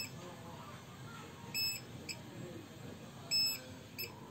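Gold scanner detector sounds two sharp electronic buzzer beeps about two seconds apart, each with a shorter blip after it, fairly quiet over a low background murmur.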